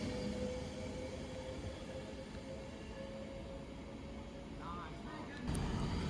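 A Class 390 Pendolino electric train crawls slowly past, giving a steady low rumble with a faint whine and a few squeals of the wheels. A louder clunk comes near the end.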